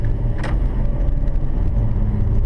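An automatic car making a turn during a driving lesson, its engine a steady close rumble throughout with a brief higher whoosh early on, no talking.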